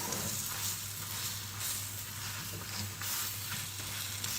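Poppy seed katmer flatbread frying in a pan, giving a steady, even sizzle that holds at a moderate level throughout with no voices.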